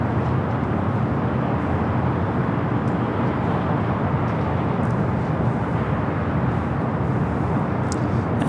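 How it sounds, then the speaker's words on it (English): Virgin Airbus A350-1000 arriving at LAX from London Heathrow, a steady, loud broadband jet roar that holds evenly throughout with no pauses or talk. "A350-1000 Virgin. Flight 7 coming in from London Heathrow."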